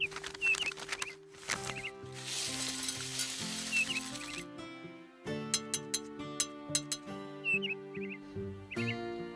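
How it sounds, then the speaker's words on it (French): A cartoon bluebird's bright high chirps and tweets ring out repeatedly over a busy backdrop of sustained musical tones, with short pauses between bursts of birdsong. "J'adore t'entendre gazouiller."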